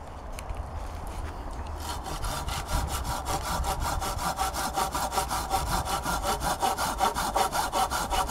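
Hand saw cutting through wood at a woodland camp: after a scratchy start, rapid, even back-and-forth rasping strokes settle into a steady brisk rhythm, close and moderately loud, with no talking.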